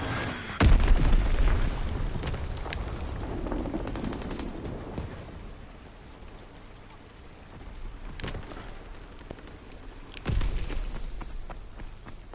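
Heavy artillery shells explode in a WWII-era Call of Duty battle, with deep booms at the start and again near the end, surrounded by crackling gunfire and rumbling battlefield noise.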